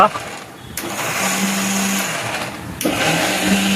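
A mixer grinder whirs as it blends gravy, its motor droning steadily with a rising whine and a brief dip, under someone talking.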